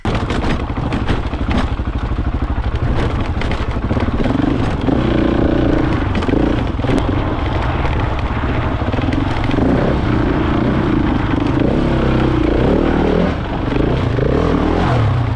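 A Husqvarna 701 motorcycle rides Southern Utah single track, its single-cylinder engine loud and close, constantly revving and easing off through the terrain, with rattles and clatter over the rough trail.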